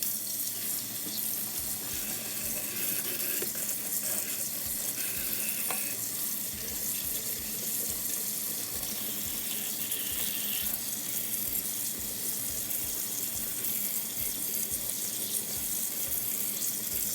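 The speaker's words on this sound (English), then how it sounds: "Once I've washed all of my leeks" Kitchen tap runs steadily into a sink as leeks are washed, a constant close splashing stream with intermittent irregular splatters and shifting as the vegetables are rinsed.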